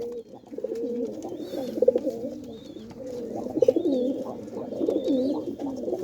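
A Giribaz pigeon kept in a home loft coos in repeated low, throaty rolling phrases close by, with faint higher chirps from other birds in the background.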